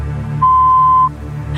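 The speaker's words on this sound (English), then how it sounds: "please speak after the beep" An answering machine beep from a 1992 recording, a single steady electronic tone held for just under a second, loud and alone on a faint background hum.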